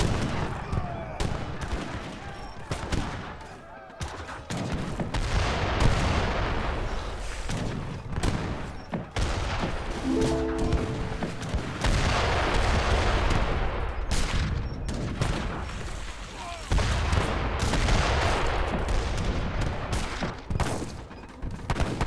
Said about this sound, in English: I think I'm gonna do a good job sniping his total front with my cannon